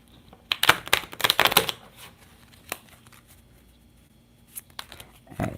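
A Friends tarot card deck being shuffled, with a quick burst of riffling and flicking cards early on, then a few lighter taps and a final shuffle near the end, close by with no talking.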